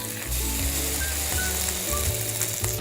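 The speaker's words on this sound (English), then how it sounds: "Love the sizzle sound." Batter-dipped brioche slices frying in a pan, a steady close sizzle that holds evenly throughout with faint crackles and no talking.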